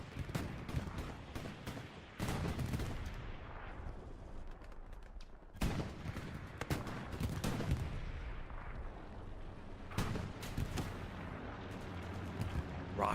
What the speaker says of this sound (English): Rocket comes in down below and takes out the opening P4.